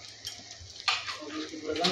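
Spices being stirred in a pan with turmeric powder for shahi paneer, a soft scraping sizzle that steps up partway through and continues in short bursts, fairly quiet.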